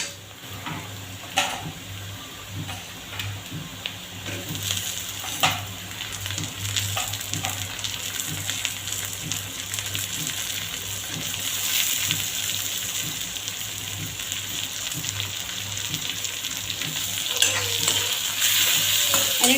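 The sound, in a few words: onion and tomato frying in a pan, being stirred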